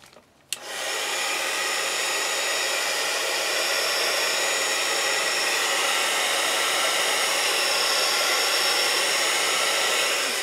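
A heat tool blows steadily and loudly while drying stamped ink on paper, a continuous close hiss and whir that starts abruptly after a brief click and runs unbroken.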